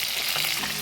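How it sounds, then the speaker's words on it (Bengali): Rohu and catla fish pieces frying in hot oil, giving a dense, loud, continuous sizzle close by, heard alone. "মাছ ভাজাগুলোকে উল্টে দিয়েছি যাতে দুপাশে ভালো করে ভাজা হয়।"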